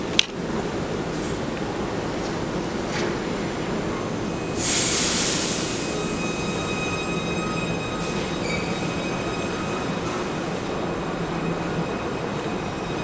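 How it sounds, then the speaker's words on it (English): A Merseyrail electric train departing Chester station for Liverpool Central, a steady loud rumbling roll with rising motor whine and brief high squeals, heard close from the platform. "Departing now is for 14:01 Merseyrail service to Liverpool Central."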